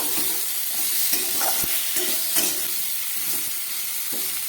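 Spice paste and onion for a Bengali fish curry are sautéed in a pan, with a loud, even sizzle and repeated stirring scrapes coming at a loose rhythm, close up and without speech.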